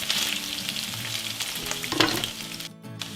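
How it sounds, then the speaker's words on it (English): Pork for chicharron fries in a pan with a steady, close sizzle and crackle that continues without talk for a few seconds. "as you can see, they're frying here"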